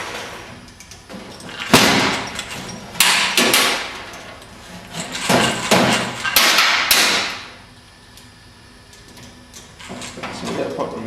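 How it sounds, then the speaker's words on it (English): Pop riveter setting a rivet while a part is held at 42 inches, giving several sharp, loud snapping bursts in a rough rhythm, with voices talking in between. "So we get a pop rivet in."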